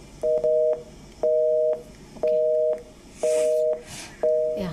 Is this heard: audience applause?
no